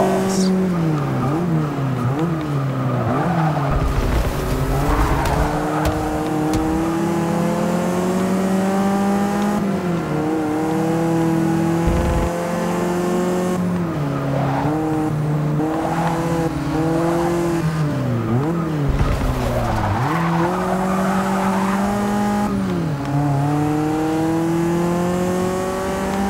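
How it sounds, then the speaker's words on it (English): A race car at full speed in Forza Motorsport 6, its engine note loud and continuous, climbing and dropping through repeated gear shifts and revs over the whole stretch, with a faint voice beneath it. "this car definitely isn't slow"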